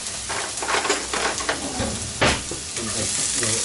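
Onion frying in a pan for meat-filled crepes, a loud dense sizzle with a busy crackle and a sharp clatter of stirring partway through; nobody talks.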